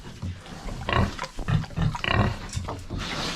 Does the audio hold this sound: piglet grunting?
yes